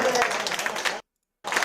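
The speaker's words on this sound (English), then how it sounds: "look at the little white ESA kids clapping" An audience clapping in a dense, crackling burst that cuts out abruptly and then resumes, with a voice faintly mixed in.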